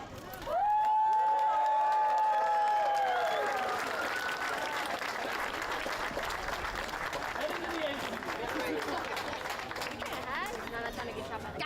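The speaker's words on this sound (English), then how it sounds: "One more round of applause for this exciting, historic moment here in our neighborhood." Applause and cheering from a crowd at an elementary school ribbon cutting ceremony, with shouts and whistles at first, then sustained clapping mixed with chatter and voices.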